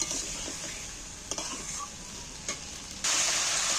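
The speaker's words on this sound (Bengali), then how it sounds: "এবার এইটাকে ভালো করে কষাতে থাকতে হবে" Taro and potato being stir-fried in a pan make a moderate sizzle with a few spoon scrapes and taps, then a sudden brighter surge of hissing near the end, with no talk.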